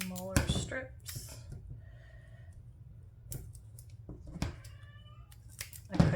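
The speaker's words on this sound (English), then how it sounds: "Sorry if you hear my cat in the background, she keeps crying for no reason." A female cat meows a few times nearby, short crying calls spaced apart over a low background hum, with a few sharp clicks and snips of paper-craft cutting mixed in.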